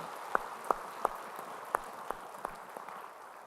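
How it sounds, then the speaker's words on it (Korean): A few sparse, separate claps from a church congregation during a Sunday service, quiet and spaced out, fading into near silence. "우리 찬양 받쳐 주님께 영광의 박수 올려드리겠습니다."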